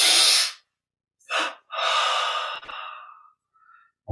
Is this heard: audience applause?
no